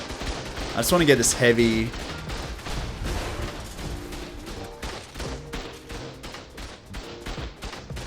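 Turrets fire in the ARK survival game, a rapid run of sharp, fairly close shots repeating through the clip, mixed with other game effects and someone talking briefly over them.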